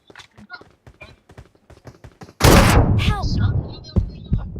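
A video game gunfight in a 2v2 match: after soft footstep-like taps, one loud, close shot bursts out with a long ringing echo, then a few more sharp reports, with voices talking over it.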